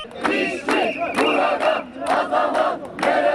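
Marching workers from the closed Antex textile factory chant slogans in loud, rhythmic crowd bursts on their way to the Antalya governor's office. The repeated shouted phrases come with short pauses between them.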